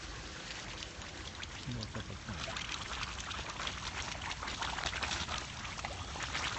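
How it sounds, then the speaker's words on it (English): Water gushes continuously from an overflowing water main beside a hillside path on Victoria's Peak, Hong Kong, making a steady close splashing rush that fills the whole clip with no voices. "we've got an overflowing water main."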